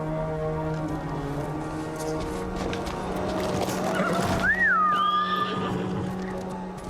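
A horse in the video game Ghost of Tsushima gives a single rising-and-falling whinny midway through, set over a steady bed of in-game ambience and low droning music.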